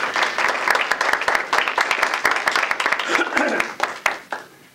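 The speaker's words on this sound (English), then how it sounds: "Didn't have to be reminded to clap." Lively applause from an audience at a Radnor Historical Society talk in the Wayne, Pennsylvania library, with individual claps distinct in the patter and a few voices underneath. The applause thins out and stops near the end.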